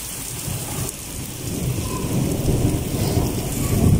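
Heavy rain pours steadily in Pakistan, a dense loud hiss of drops on surfaces with low rolling thunder rumbling beneath, no voices.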